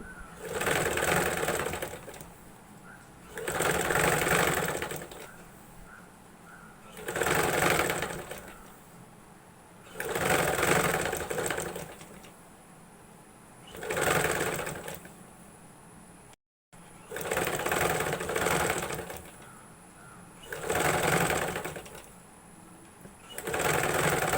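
A sewing machine stitches fabric onto canvas for a neckline in repeated bursts of about two seconds separated by short pauses, a rhythmic mechanical whir heard up close with no talking.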